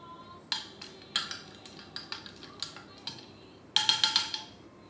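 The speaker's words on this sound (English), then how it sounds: "So we are going to mix it with this giant spoon" A giant metal bar spoon stirs a screwdriver cocktail, clinking bright and close against the glass in a loose rhythm of single taps, ending in a quick cluster of clinks.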